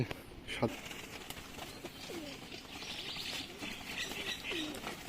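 Teddy pigeons coo in a loft, giving soft, low rolling calls a few times at close range over a steady background murmur, with occasional faint chirps.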